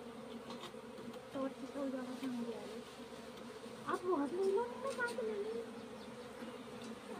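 Honey bees swarm and buzz steadily around a cut hive on a hillside, a dense, close drone that swells as individual bees pass near, while someone speaks faintly at times.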